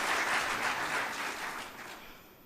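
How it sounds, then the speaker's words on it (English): An audience at an annual conference applauds after a musical performance, a dense wash of clapping that is full at first and then gradually thins and fades out. "Please, a round of applause for that beautiful performance."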